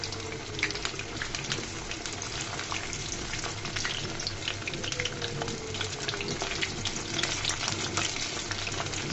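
A potato and flour snack frying in hot oil and being turned over, with a continuous dense bubbling sizzle close by and occasional light scraping, no talking.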